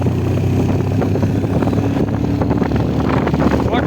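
A motorbike engine roars loudly and steadily on the Rapur ghat section road, a continuous droning rumble mixed with wind buffeting from close by.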